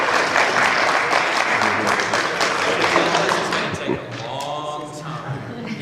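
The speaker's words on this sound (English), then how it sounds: "If we clap for every positive comment." Applause from the audience at a neighborhood council meeting, a dense steady patter of clapping that carries through the first four seconds and then thins. Voices talk over it toward the end.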